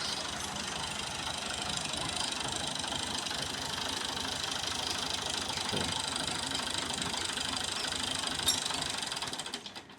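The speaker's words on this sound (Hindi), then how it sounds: "ये ट्रैक्टर आ गया इनका।" Tractor engine running steadily at a village homestead, a continuous knocking, rattling idle heard close and fairly loud for about ten seconds before cutting off at the end.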